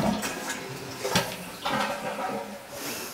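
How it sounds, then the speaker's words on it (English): A household toilet flushes nearby with a rushing, gurgling wash of water that swells and fades over a few seconds, fairly quiet, with faint room clatter. "so you're going to flush the toilet."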